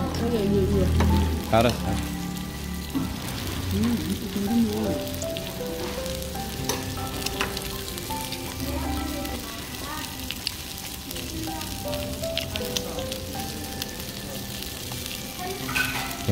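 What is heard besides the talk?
beef tripe sizzling while grilling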